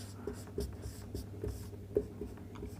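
A pen or marker scratches out short strokes while a teacher writes code on a board or pad, soft and close, with small taps between strokes and no talking.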